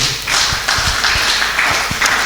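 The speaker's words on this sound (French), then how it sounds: "Applaudissons pour la gloire" Church congregation applause, a continuous wash of many hands clapping together, loud and sustained, with a few heavier hits underneath the crowd noise.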